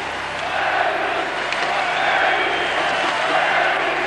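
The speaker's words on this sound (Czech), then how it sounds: "Tam je ostrůvek setinských fandů, kteří neúnavně pozbuzují." A large crowd of ice hockey fans cheers and chants continuously in a big arena at a 1995 final, a steady roar of many voices at a distance.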